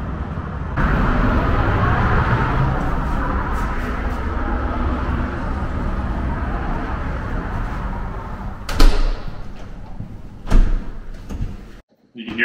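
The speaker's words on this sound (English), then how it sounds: "You can hear as we pin this door shut" Beside a six-lane highway, steady traffic roar fills a triple-pane passive house until a door is pinned shut with two loud, close clunks, after which the noise drops away to near silence.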